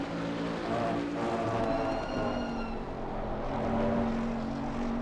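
A loud GTR race car in an Assetto Corsa 24-hour endurance race at RBR: a steady, droning engine note with a brief higher whine partway through, heard alone without talk.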